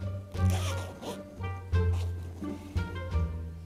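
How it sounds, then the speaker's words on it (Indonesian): A zipper slides open and closed several times along the back of a 40 x 40 cm cotton pillowcase, with close, brisk rasping strokes and no talking. "Di bagian belakang terdapat resleting."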